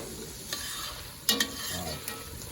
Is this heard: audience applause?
no